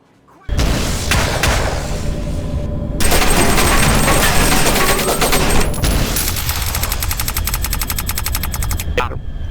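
Rapid, sustained gunfire from Hover Junkers, a VR co-op shooter, loud and continuous after a sudden start, with bursts layered over booming shots and a brief dip before the firing intensifies again; a voice talks over it.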